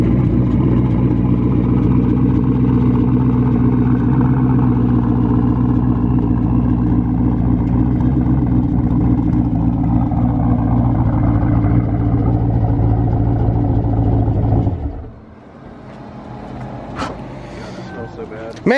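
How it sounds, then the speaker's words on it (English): A race car drivetrain with a billet torque tube emits a loud, heavy mechanical drone with engine rumble, steady for about fifteen seconds before cutting off abruptly, followed by quieter clatter and brief voices. "That's what a billet torque tube sounds like."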